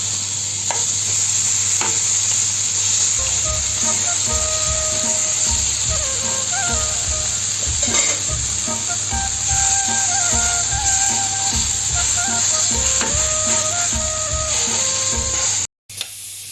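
Chicken steak sizzles loudly and steadily in a hot pan, with a run of sharp scraping and clattering knocks from flipping and stirring midway, near and clear with no talk, ending in a brief cut.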